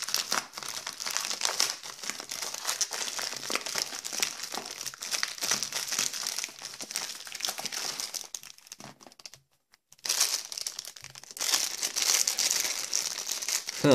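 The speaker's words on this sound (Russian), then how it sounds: "Мелкий пакет с пупырышкой." A small bubble-wrap package is opened with continuous crinkling and crumpling of plastic, close and busy, with a brief pause near the end before the rustling resumes.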